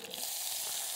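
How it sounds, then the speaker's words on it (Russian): Onion frying in a blend of butter and vegetable oil in a pot, a dense continuous sizzle with steady hiss throughout, close and even, no voices. "Я сюда отправляю лук."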